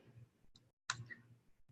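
A computer mouse double-clicking at a desk, a couple of soft, close clicks separated by near silence, faint and brief.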